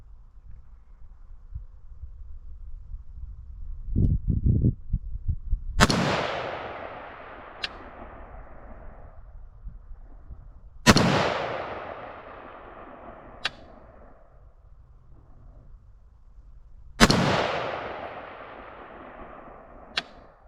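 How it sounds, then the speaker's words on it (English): Three loud, sharp reports from a rifle firing IMI Systems 5.56mm ammunition at a range target, each spaced several seconds apart with a long decaying echo. A few duller knocks come before them, and brief clicks fall between the shots. "So let's go ahead and throw 5 rounds down range or a bottom right hand target."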